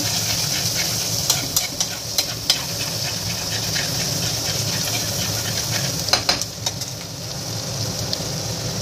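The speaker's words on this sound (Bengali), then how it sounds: "ভালোভাবে একটু নেড়ে চেড়ে ভেজে নেব।" Garlic and ginger being stirred and fried in hot oil in a pan for chicken patties: a steady sizzle runs throughout, with scattered spatula scrapes and clicks, clustered near the start and again around the middle.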